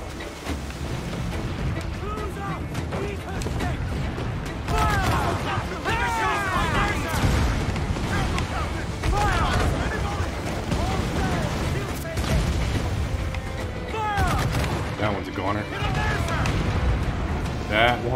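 Mortar fire from a naval fort during a sea battle in Assassin's Creed IV Black Flag, with repeated heavy booms and crackling gunfire over ship and water noise, while someone talks throughout.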